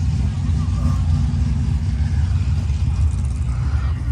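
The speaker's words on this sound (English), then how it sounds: "Ooh, 426 Max Wedge. Well, that thing sounds good." Mopar 426 Max Wedge V8 in a 1965 classic running, a loud, rumbling, lumpy low-end idle held steady and close throughout.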